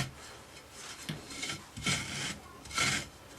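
Rammed moulding sand scraped flat across the top of a casting box: three or four gritty rasping strokes, each about half a second long with short pauses between, close and fairly quiet.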